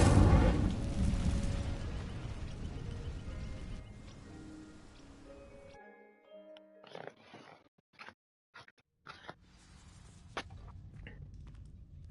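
An Incendio fire spell cast in a Harry Potter video game: a loud, roaring burst of flame that rumbles for several seconds and then fades, followed by sparse crackles and short pops.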